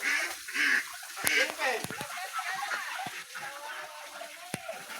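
Ducks quack and honk in short bursts at close range, mixed with scattered clicks and soft background noise, with some voices nearby.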